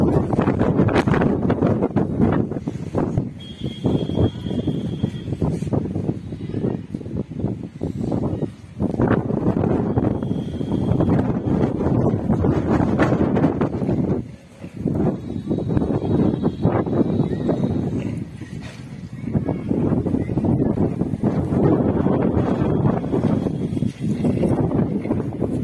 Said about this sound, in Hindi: देखिए जी कितनी तेज हवा चल रही है, बहुत ही तेज हवा, ऐसा लग रहा मैं उड़ रही हूँ इस हवा में से।